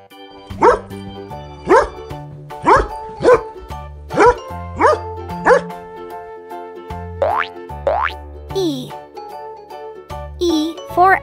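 A cartoon-style dog bark pops out a few times over a bouncy children's alphabet tune with plucked notes and springy boing effects, fairly loud and close.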